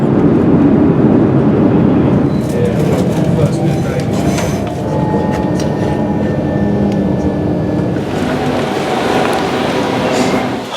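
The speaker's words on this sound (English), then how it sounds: "Everyone else is just on a train." Steady, loud rumble of a moving train heard from inside a carriage, a continuous low roar with faint rattles and squeaks, with people talking under it at times.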